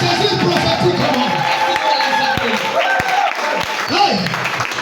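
A church congregation at a Sunday service breaks into loud applause and cheering, dense clapping with shouts over it and voices mixed in throughout.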